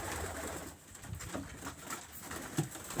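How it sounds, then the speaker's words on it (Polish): Pigeons coo softly in an enclosed space, low murmuring calls repeating over faint background noise, with no talking. "Też gołąbki siedzą."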